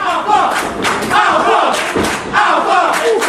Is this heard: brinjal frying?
no